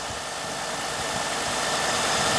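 A 1998 Honda Accord engine idles steadily just after a jump start from a portable starter, a close, even mechanical hum with a slight rattle and no talking.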